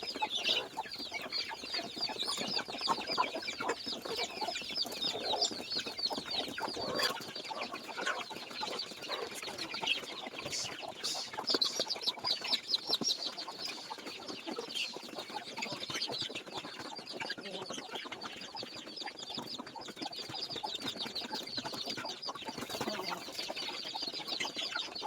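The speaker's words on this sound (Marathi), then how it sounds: "अशा प्रकारे आपण आपल्या कोंबड्यांना भात टाकतो" Free-range country chickens cluck and chatter steadily for a long stretch while pecking at cooked rice mixed with turmeric and garlic, with a dense, busy flock sound and no talk.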